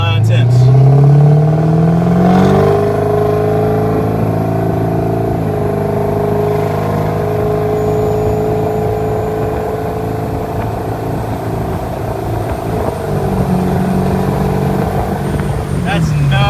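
A Ford 6.4L Powerstroke diesel pickup accelerates at full throttle, its engine roaring loud and close with a rising pitch that climbs through the gears, then holds a steady heavy drone.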